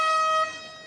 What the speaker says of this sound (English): That is the siren for the final play of this second quarter.